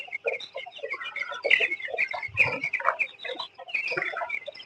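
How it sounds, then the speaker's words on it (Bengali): Fifteen-day-old broiler chickens, about a thousand of them, cluck and cheep continuously in a poultry shed, a dense chorus of overlapping bird calls at moderate level without speech. "এখানে 1000 ব্রয়লার মুরগি আছে।"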